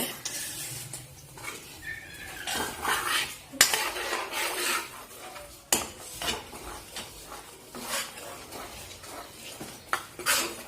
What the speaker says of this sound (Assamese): গোটেইখিনি ভালকৈ মিলাই থাকোঁতে এনেকুৱা হ'ব।